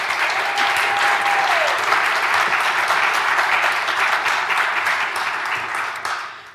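Loud, dense applause from an audience for a panel on police officers in crisis and PTSD, a sustained wash of many hands that holds steady for several seconds before tapering off at the end.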